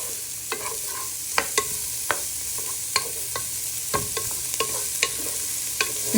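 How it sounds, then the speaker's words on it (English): Chorizo fries in oil in a pan with a steady low sizzle, while a utensil stirs it and scrapes and taps against the pan in sharp, irregular clicks. "You want to give that a good stir."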